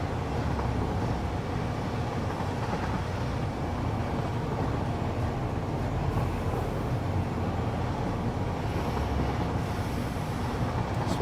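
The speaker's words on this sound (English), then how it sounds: "That's definitely the wrong way that train's supposed to be coming in there." A train arrives on a track in the factory-building game Satisfactory, giving a steady, broad rumble with a low-end roar that holds even and fairly loud for the whole stretch, with no talk over it.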